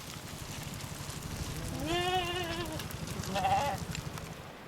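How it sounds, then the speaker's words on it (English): Sheep grazing on wide Tibetan pastures bleat twice, a longer wavering call followed by a shorter one, moderately near over a soft outdoor background with no talk. "passing wide pastures, with grazing sheep and yaks"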